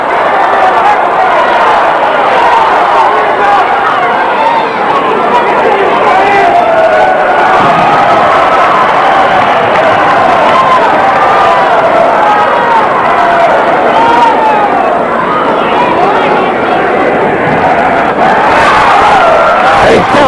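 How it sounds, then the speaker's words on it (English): A packed crowd at a 1973 WWA all-star championship wrestling match keeps up a dense, steady roar of cheers and shouts for the full stretch, with a commentator's voice running over it. "all the fans are cheering him on"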